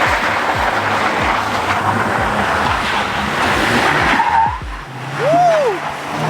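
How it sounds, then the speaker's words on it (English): A cop truck is drifted with squealing tires and engine roar on loose ground, loud and close, with a rising and falling screech near the end. "Tire screech in there."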